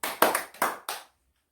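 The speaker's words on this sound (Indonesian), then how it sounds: "tepuk tangan 2 kali" A classroom group claps in a quick burst of about four uneven claps, close and crisp, then falls silent.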